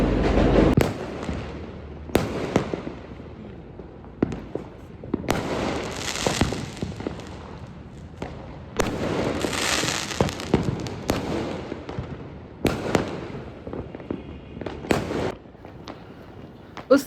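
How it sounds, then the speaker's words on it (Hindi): Diwali firecrackers and fireworks seen from a rooftop crackle and burst again and again, some nearby and sharp, others farther off and rumbling, in irregular clusters throughout. "पटाखे जल रहे थे"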